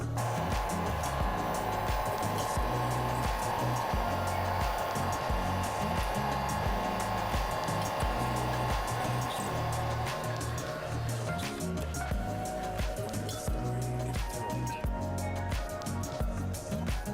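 Heat gun blowing on an iPhone 7 housing during a screen replacement, a loud steady whooshing fan roar close up throughout with a faint constant hum, and someone talking underneath.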